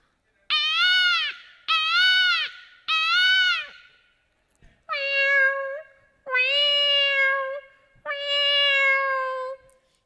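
A mimicry artist imitates a cat, giving six clear, drawn-out meows with short gaps between them, loud and close with no other sounds.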